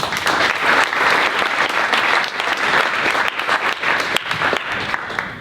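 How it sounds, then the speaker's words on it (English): An audience at a student startup finale applauding the judges, dense, sustained clapping from a crowd that fades slightly toward the end. "Let's give our judges a round of applause."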